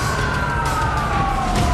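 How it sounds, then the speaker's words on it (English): A police siren wails steadily over rumbling traffic noise during a car chase on residential streets in Los Angeles, fairly close and continuous throughout. "he hears police sirens and knows the chase is coming his way"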